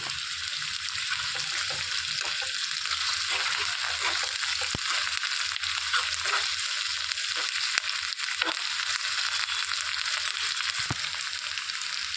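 Ginger garlic paste frying in a pan for an Andhra-style spicy cucumber and drumstick curry, a close, steady crackling sizzle with scattered pops and light stirring scrapes running throughout.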